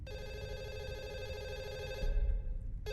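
A telephone rings steadily in the horror game Fatal Midnight, with a sustained electronic tone over a low rumble. The ring cuts out briefly near the end and then starts again.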